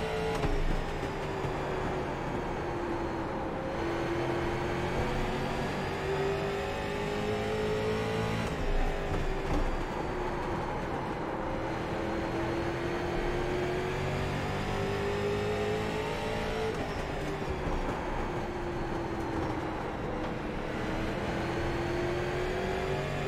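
Street stock race cars at Southern National in iRacing drone and rev continuously at close range, their engine pitch rising and falling in long sweeping cycles as they circle the track.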